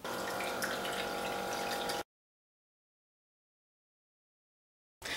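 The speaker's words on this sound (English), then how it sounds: "this is a tabletop water fountain, and it's a great piece to have in waiting rooms or around the house somewhere because most people find the sound of running water quite soothing" A homemade tabletop water fountain runs steadily with a soft trickling, splashing flow for about two seconds, then the sound cuts to silence before briefly returning at the end.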